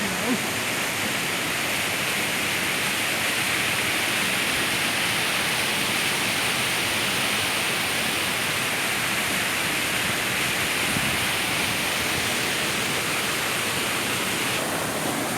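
Steady close roar of the Kaigal waterfall in Chittoor district, water crashing continuously at an even, heavy level with only a slight shift in tone near the end and no clear speech.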